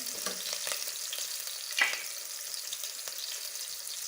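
Green chillies sizzle steadily in hot oil for a samosa filling while being stirred in the pan, with a sharp scrape partway through.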